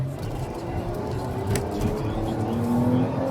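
A 2019 Nissan Maxima SV pulls hard in sport mode, its engine note climbing steadily in pitch over continuous road and wind roar heard from inside the cabin.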